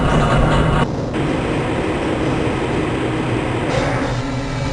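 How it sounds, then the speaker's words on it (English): A Black Mesa transit train in Half-Life: Blue Shift, a steady loud rumbling ride with rolling rail noise and a faint whoosh shifting partway through. "This train is inbound from the Area 8 topside dormitories to the Central Transit Hub in Area 9."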